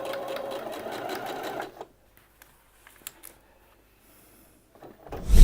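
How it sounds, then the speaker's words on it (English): A sewing machine runs in a steady, fast stitching burst while sewing an apron seam, then stops abruptly, leaving near silence with a few faint clicks and a rustle at the end. "I'm just going to sew about 3/4 of an inch from the edge"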